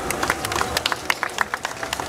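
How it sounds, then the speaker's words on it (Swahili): An audience applauding at a market project event, a steady spray of claps with scattered sharper hand strikes, close and fairly loud with little talk. "naomba sote tuliopo hapa tujipigie makofi mengi sana"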